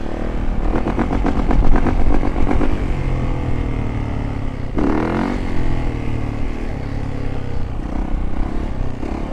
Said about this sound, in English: Let's hit a rev bomb. Rev bomb for homie.